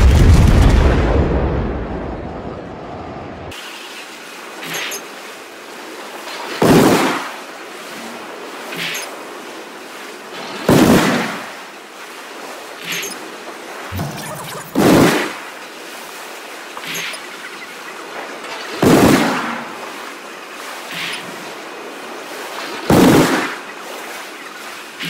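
Battleship guns firing and shells exploding in the World of Warships naval game, aimed at a Montana: a series of heavy booms about every few seconds over a steady sea-surf wash, each blast loud and decaying.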